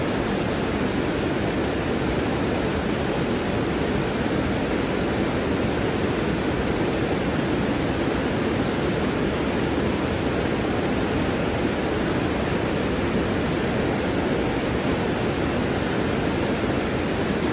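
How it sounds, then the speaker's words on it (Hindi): A river rushes nearby in Kasol, a constant loud broadband roar of flowing water with no pauses, heard from close by a bridge. "पीछे नदी की आवाज़ आ रही है"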